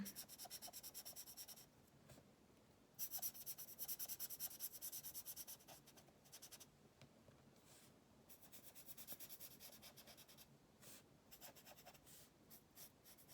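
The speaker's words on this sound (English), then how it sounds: "And you just want to colour in your pieces of paper." Felt tip pen colouring back and forth on paper, a steady scratchy rubbing in close-up bursts with short pauses between strokes, no voices.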